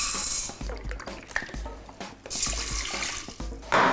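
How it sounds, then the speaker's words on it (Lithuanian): Water pours into a pot of rice on the stove, a steady splashing gush that swells and eases in bursts, close and fairly loud, with no talk over it. "užpilsiu vandeniu"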